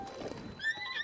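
A horse neighs in Tears of the Kingdom, a short whinny with high harmonic tones and hoof clatter, close and alone over game ambience.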